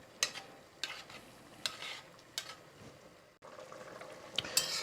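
Shrimp cooking in a pan for a tomato and white bean soup, a soft close sizzle broken by repeated scraping stirs and small clattering hits at irregular intervals, with no voices.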